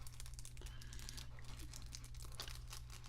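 Crinkling and light tearing of packaging as a Squale Tropic 1545 dive watch box is opened, soft, close and steady, with a low hum underneath.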